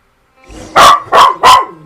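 A puppy barks three times in quick succession, loud and close, with a short whimper-like sound just before.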